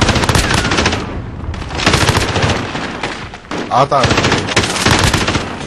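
An MG34 light machine gun fires in long, rapid bursts in a video game, loud and dense with short breaks between volleys, while a player talks briefly over it.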